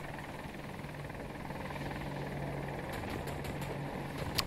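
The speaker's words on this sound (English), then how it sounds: "I had to wait for 3 battlefields to finally get one with a helicopter." Helicopter in the video game Battlefield 2042, a steady low rotor and engine drone held throughout, with a few sharp clicks and a small thump near the end and no talk.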